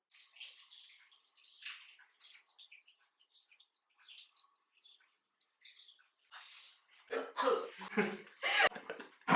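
Water runs from a kitchen tap as zucchini are washed, a faint trickle under brief talk that swells into louder splashing and rinsing near the end.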